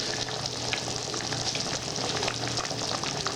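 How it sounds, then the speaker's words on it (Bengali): Chhana (cottage cheese) balls for kofta fry in hot oil, giving a steady, close bubbling sizzle with fine crackling pops that carry on throughout without any talk. "দেখুন ছানার বড়াগুলো ধীরে ধীরে ফুটছে"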